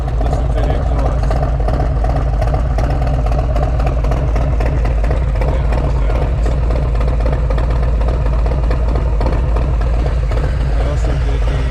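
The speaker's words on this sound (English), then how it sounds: "Listen to the exhaust." A 2021 Harley-Davidson Street Glide Special with aftermarket exhaust and a torque cam idling close up, a loud, steady, deep lumpy rumble with rapid uneven pulses throughout.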